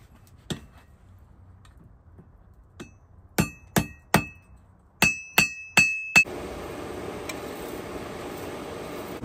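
Sharp metallic strikes ring out in quick clusters, bright clanging hammer blows on hot metal from a forge, followed by a steady hiss.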